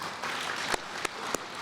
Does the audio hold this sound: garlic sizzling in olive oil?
no